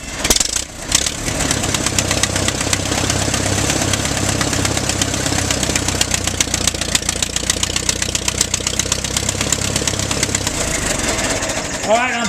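An Allis Chalmers tractor engine runs steadily at an estate auction in New Weston, Ohio, with its engine shields removed, giving a continuous close mechanical chug with rapid regular firing pulses throughout, while people talk nearby.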